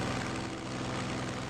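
A propeller fighter plane engine drones steadily and loudly in a World War II strategy game, a continuous low rumble with no pauses and no talking.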